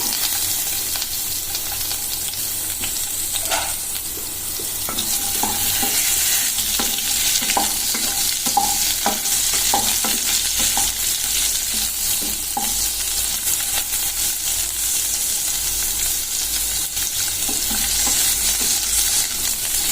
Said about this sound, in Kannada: ಈಗ ಇದಕ್ಕೆ ಮೊದಲು ಸ್ವಲ್ಪ ಎಣ್ಣೆ ಹಾಕ್ಕೊಂಡು ಇವನ್ನ ಚೆನ್ನಾಗಿ ಹುರ್ಕೋಬೇಕು.